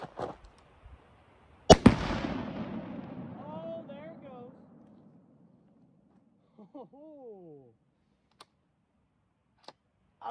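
One pound of tannerite detonates with a single loud, sharp boom during a ballistic test on hard caulk, followed by a long fading rumble and debris settling, with faint scattered ticks afterward.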